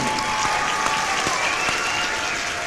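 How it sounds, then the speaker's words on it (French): A crowd applauds the participants of a spelling championship, a loud, dense burst of clapping filling the whole brief moment, with a whistle rising over the clapping. "Applaudissez-les sérieusement, faites tomber le plafond"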